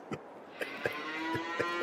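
A cow in the Farming Simulator 22 video game gives a single sustained low moo near the mic, with a few soft knocks and clicks from the game around it.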